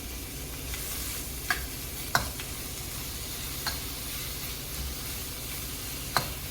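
Sweet potatoes fry in a hot pan for tacos with a steady close sizzling hiss, broken by occasional sharp clicks and scrapes from stirring.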